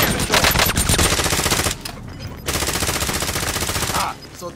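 Rapid automatic gunfire rips through a Call of Duty Warzone Resurgence match, loud sustained bursts with a short lull in the middle before firing resumes, close and dense.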